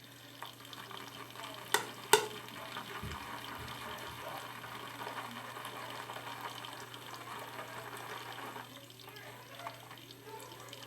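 Barrister & Mann sandalwood shaving soap being worked into a lather with a little added water: a steady, close, moist churning and swishing that runs throughout, with two sharp knocks early on and no talking.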